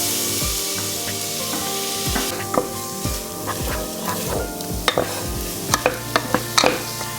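Tomato tossed into garlic and onion frying in a pan, a loud continuous sizzle close up, broken by repeated scraping and knocking strokes of a spatula against the pan.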